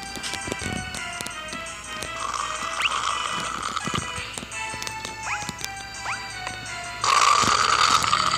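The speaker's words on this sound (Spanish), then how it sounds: "Esos sonidos de flamas más bien parecían ronquidos." Flames in the game Syobon Action give off a rough, rasping roar that sounds much like snoring, pulsing amid game effects and growing louder near the end.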